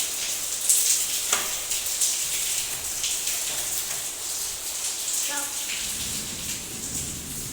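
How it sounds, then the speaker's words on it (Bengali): Heavy rain falls in a steady, even hiss that runs without a break throughout. Faint voices come through briefly once or twice. "এই হচ্ছে আজকে বৃষ্টির অবস্থা।"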